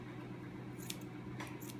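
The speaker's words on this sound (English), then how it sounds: "I've got my not the right scissors to do that" Small scissors snipping while trimming, two faint, quick crisp cuts over a steady low background hum.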